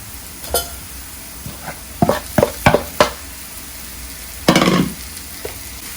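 Chopped kimchi stirred into caramelized onions in a hot pan, giving a steady low sizzle broken by several sharp scraping stir strokes and a louder burst of frying near the end, with no talking.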